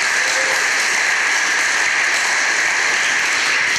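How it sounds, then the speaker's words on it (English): Congregation at a church men's ministry service gives a loud, steady round of applause, thick continuous clapping filling the room without letup. "Let's give Brother Tim a hand clap of praise."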